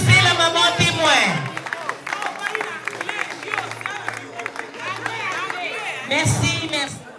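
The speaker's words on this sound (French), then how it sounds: "Applaudissez la maman témoin." Wedding guests at a civil marriage ceremony applaud in bursts of clapping mixed with crowd chatter, while a voice speaks over and between the claps.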